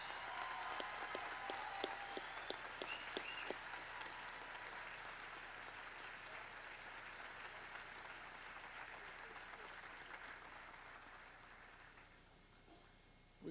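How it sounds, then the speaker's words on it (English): Sustained applause from a large audience at a university commencement ceremony, steady and even, fading slightly toward the end. "A nice round of applause for all of these graduates."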